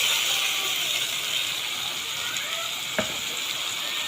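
Marinated meat frying with ginger-garlic paste in a pan, a bright continuous sizzle with a faint rising whine and one sharp clack near the end, no voices.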